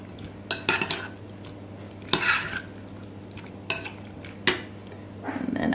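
Cheese is folded into a keto cauliflower potato salad in a bowl, with several sharp scrapes and clinks of a utensil against the bowl separated by quiet pauses.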